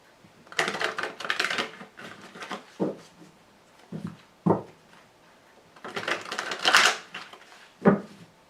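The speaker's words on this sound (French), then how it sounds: "je vais donc recouvrir l'entier-jeu avec un second tarot qui est le tarot de Wicca" Wicca tarot cards are handled and laid over a spread in irregular soft bursts of rustling, flicking and tapping, close and fairly quiet, with pauses between.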